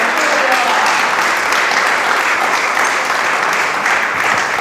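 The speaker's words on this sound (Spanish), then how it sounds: "Démosle palmas a Cristo de la gloria." A church congregation claps together in loud, sustained applause at a sermon, a dense steady roar of many hands filling the room.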